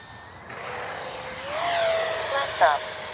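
A Freewing 70mm Vulcan RC jet whines past low during a touch and go, its ducted-fan pitch rising and sweeping as it nears, then peaking briefly.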